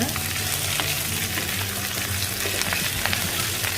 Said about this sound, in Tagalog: ilagay na natin ang ating beef. Tapos, ihalo natin siya.